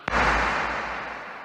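A single Insonic SQ1 synthesizer power-on tone blooms out of a soft click into a broad, washy swell with a long reverberant tail that slowly fades.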